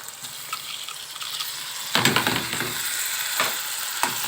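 Rice being stirred and sautéed in a pan with onion and tomatoes, with scraping stirs and a steady sizzle over a constant hiss, louder clattering strokes joining partway through, close and with no talking.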